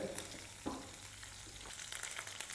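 Quiet, steady sizzling of garlic frying in hot ghee, with a few faint stirring clicks and no voices.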